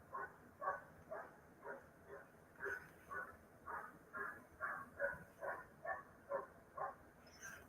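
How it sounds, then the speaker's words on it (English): A neighbourhood dog barks over and over in a steady, evenly spaced series of about fifteen yips, fairly distant and moderately faint, with a train line a block away. "it's that damn dog barking or my neighbors knocking on the door"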